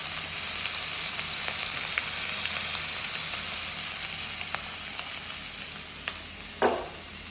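Chopped onion, ginger and green chili sizzle steadily in a hot pan of oil, a dense continuous hiss with scattered pops and a brief louder crackle near the end, close and alone without talk.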